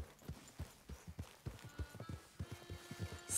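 Quiet, rhythmic clip-clop of horse hooves on the ground in Red Dead Redemption 2, steady and evenly paced as a rider approaches from behind.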